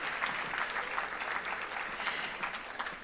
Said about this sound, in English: Let's give another round of applause to the Leadership Hall of Fame